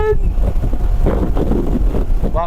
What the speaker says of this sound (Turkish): Şu an rüzgar esiyor ya nasıl anlatayım size